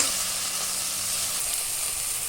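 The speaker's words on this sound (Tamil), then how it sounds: "நல்லா வதங்கட்டும்." Steady, loud sizzling of chopped spinach and vegetables sautéing with salt in a hot pan, a continuous crackling hiss from start to finish.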